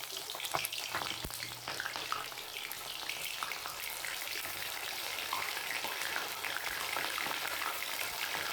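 Bombay duck fish frying in plenty of hot mustard oil, a loud continuous crackling sizzle with occasional pops and stirring, no voices.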